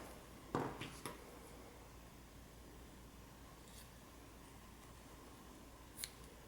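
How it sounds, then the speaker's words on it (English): Scissors snip through yarn tails on a small crocheted owl, giving one crisp close cut followed by a softer second snip, then quiet handling with a faint click later. "And we can cut this yarn tails."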